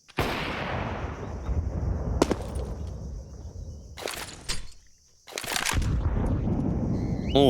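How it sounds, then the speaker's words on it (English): Grenades hurled and detonating during a CS:GO match on the Ancient map, with several sharp, loud blasts spaced apart over steady background game noise and rumble. "they're just really throwing a lot of nades towards PKL"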